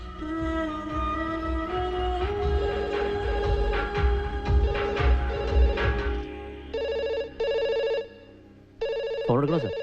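A telephone rings in an office-like film scene, its bell tone repeating in short bursts near the end after music and background sound, fairly loud and close.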